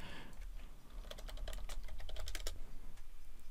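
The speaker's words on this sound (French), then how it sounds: "si je vais sur Google et que je tape, je sais pas, n'importe quelle recherche" A computer keyboard being typed on for a Google search, a quick run of close, crisp key clicks over a low steady hum, with no talking.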